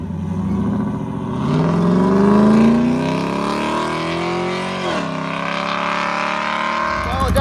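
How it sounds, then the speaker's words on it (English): A race car engine running down a cylinder with one coil missing, a loud, rough, uneven drone that swells and dips with a brief throttle change partway through, recorded up close. "it definitely sounds down the cylinder because, well, it is. No coil. But it's running."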